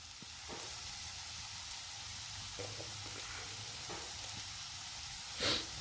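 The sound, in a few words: vegetables sautéing on full gas for hot and sour soup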